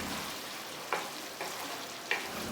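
Spices being stirred and fried over medium heat for a Punjabi dhaba-style tariwala chicken curry, a quiet continuous sizzle with three brief scrapes of a spoon.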